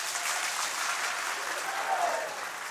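Hands clapping from an audience at a religious darbar gathering at Pandokhar Dham, a dense, steady round of applause filling the whole stretch at moderate distance.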